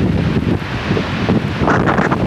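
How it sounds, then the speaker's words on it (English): Strong wind buffets the microphone during a train trip beside a lake, a loud, continuous rushing roar with gusty swells and no talk. "Well, that wind's strong."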